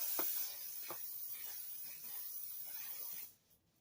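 A makeup spray bottle releases a fine mist as a soft, continuous hiss lasting about three seconds, then cuts off abruptly into near silence.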